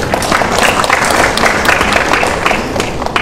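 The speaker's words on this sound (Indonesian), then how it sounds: "Boleh tepuk tangan buat Ibu." A seminar audience gives warm applause, with dense, fairly loud clapping from many hands sustained evenly throughout.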